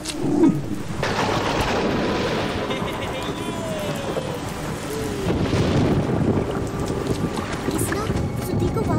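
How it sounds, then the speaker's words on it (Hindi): Heavy rain hisses steadily in a Hindi cartoon scene, with a rumble of thunder near the start and a continuous dense downpour and wind throughout. "लगता है बहुत तेज बारिश होने वाली है।"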